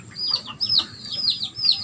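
Backyard chickens clucking close by, several short rising clucks in an uneven rhythm over a low background rumble.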